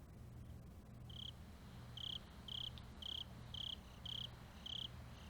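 Crickets chirp in an underground cave in the Higurashi game, a regular pulsing trill repeating about twice a second over a low steady hum, clear and close with no voices.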